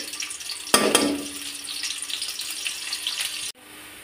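Chopped onion and green chili fry in oil in a wok for fried rice, giving a steady, moderately loud sizzle with a sharp clatter near the start. The sizzle continues until a sudden drop near the end.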